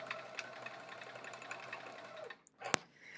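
A sewing machine stitches quilt pieces together with a steady, fast mechanical whirring hum, then stops abruptly, followed by a short sharp click.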